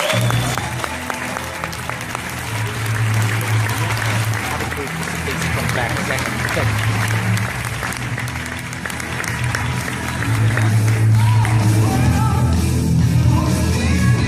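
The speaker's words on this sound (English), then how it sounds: "Everybody, please give a round of applause for our presidential director, Mr. Mike Foti." An audience at a business academy event breaks into sustained applause, a dense and even patter of many hands clapping that keeps going and grows slightly louder toward the end.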